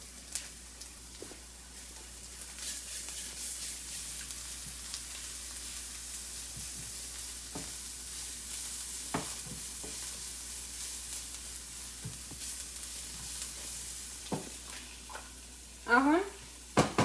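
Onions fry in a pan with a steady, close sizzle, broken by occasional sharp stirring scrapes and a short burst of clatter near the end.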